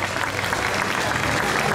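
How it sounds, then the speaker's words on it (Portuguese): A crowd applauds steadily at a NABBA Worlds 2016 bodybuilding championship as Class 1 finalists stand on stage, a thick wash of clapping that carries a faint background voice through the short stretch. "Aplausos especial para os atletas, um aplauso para vocês, para os finalistas Class 1."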